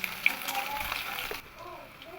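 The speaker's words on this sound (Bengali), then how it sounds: "থেতো করা রসুনটা দিয়ে এই থেতো করা রসুনটাও একটু ভেজে নেব" Crushed garlic fries in a pan for a potol bharta recipe, a soft, steady sizzle with a couple of light pops that quiets toward the end.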